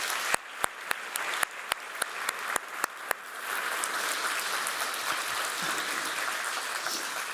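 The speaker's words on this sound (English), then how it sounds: "A round of applause for our esteemed panelists." An audience at the Brussels Economic Forum applauds panelists. A few sharp, evenly spaced claps come first, and then a broad wash of crowd clapping continues steadily at moderate loudness.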